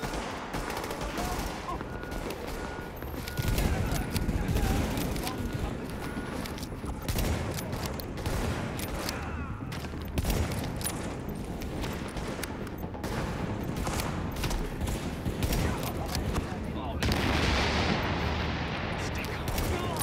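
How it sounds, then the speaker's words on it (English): Sniper rifle fire in the video game Tom Clancy's The Division rings out amid a dense, continuous game battle soundscape of other gunfire and explosions, with players' voices over the mix. "Rate of fire on the sniper is so slow."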